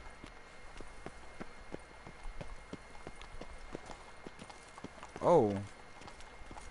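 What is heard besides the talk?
horse hooves galloping in video game The Witcher 3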